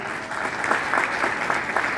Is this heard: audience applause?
yes